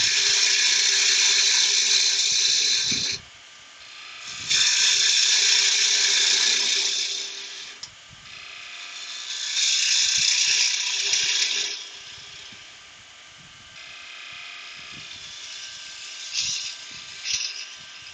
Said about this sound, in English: And we just clean that out then with the 3/8 bowl gouge.